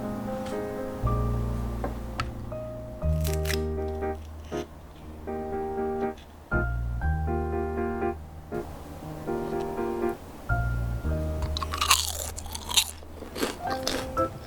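Crisp homemade bubble potato chips crunch in repeated close bites over soft instrumental music, the crackling growing busier near the end.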